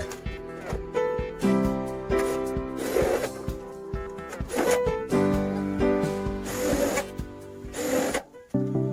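Power drill driving light steel bolts into a steel frame for a minimalist door frame, whirring bursts of varying length with short pauses between, close and fairly loud.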